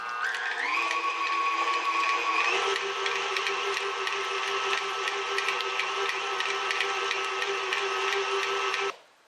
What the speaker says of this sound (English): I'm using the whisk attachment for my stand mixer